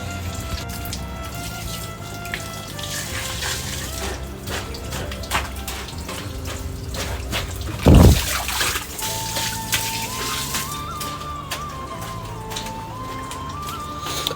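Running water splashes and trickles steadily as things are washed by hand at home, a continuous close wash of flow with a brief louder gush midway.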